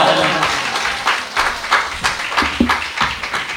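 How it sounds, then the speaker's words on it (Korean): A church congregation at a special dawn prayer service claps together in a close, rhythmic series of strong beats, each clap distinct and steady, with voices mixed in. "우리 다시 한번 우리 하나님께 박수 영광 돌리겠습니다"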